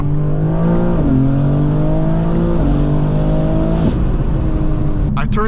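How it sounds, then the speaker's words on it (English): Raspy, loud engine of a BMW M4 G82 fitted with catless downpipes and air intakes, heard from inside the cabin while driving, rising and dropping in pitch through several revs and shifts, with a brief crackle near the end. "the car is very raspy, but still sounds good from the interior"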